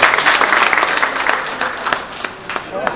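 Audience at a railway retirement ceremony applauding, a dense burst of clapping that thins and fades over a few seconds.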